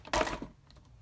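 Mossy Meadow cardstock sliced once on a paper trimmer while making a Stampin' Up card, a short close crisp scraping cut that fades quickly into quiet, with no talking.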